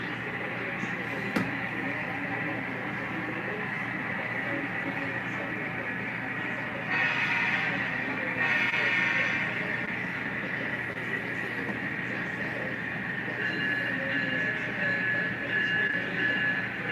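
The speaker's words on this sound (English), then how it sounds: "I'm going to slow the train down so that we can look at the pocket" A steady mechanical whir and rattle of a small model train running on track, continuous and fairly faint, with a slight rise partway through.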